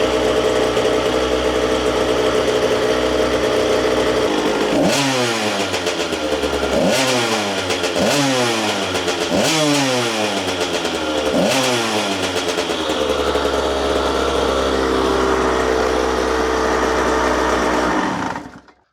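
Small motorcycle engine with an air leak at the cylinder head, idling close up and then revved in five sharp, repeated blips before settling back to a steady idle and cutting off at the end.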